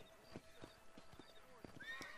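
A horse in the Red Dead Redemption video game whinnies, mixed with clip-clop hoof thuds and a talking voice over game sounds, the neigh rising toward the end.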